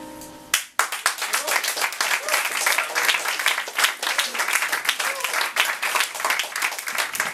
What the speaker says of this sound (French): Yvon Jean, mesdames et messieurs, on l'applaudit très fort, très très très fort.